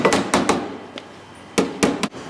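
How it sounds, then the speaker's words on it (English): A hand hammer taps on a car body panel during traditional dent pulling, making a short run of sharp, close, evenly spaced knocks with brief pauses between groups. "You've got this hammer here, which is good."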